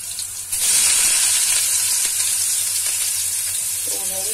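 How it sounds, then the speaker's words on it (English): Onions, garlic and ginger sizzle loudly in a hot pan, a steady broadband frying hiss that jumps up after a brief quieter start and holds through to the end, with a faint clink near the close. "in the pan, and now I'll add garlic ginger in it"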